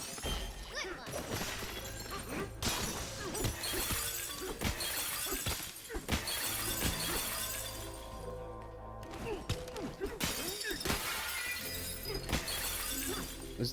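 Glass shatters again and again in Donkey Kong Bananza, a dense run of loud crashes and tinkling breaks packed closely together, with game thuds mixed in.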